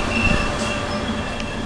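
Italian Trenitalia passenger train running over the rails near Guardia Mangano in Sicily, a steady close rumble of wheels on track with faint metallic squeal, no voices.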